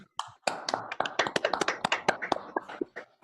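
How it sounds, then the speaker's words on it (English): Scattered hand claps from a small group at a city council meeting, honoring Yuri on his birthday; the sharp, uneven claps are fairly close and continue steadily for a few seconds with no one talking. "So everybody, a round of applause for Yuri."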